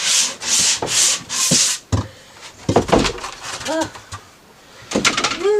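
Someone sands a surface in a cabin by hand, with four rhythmic, close scraping strokes that are loud and even, followed by knocks and handling sounds and brief chirping bird calls.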